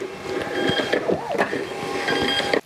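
Label printer running at a small clothing brand's workspace, a steady mechanical whir with repeated short clicks and thumps, fairly loud and continuous throughout, with music or a voice faintly underneath.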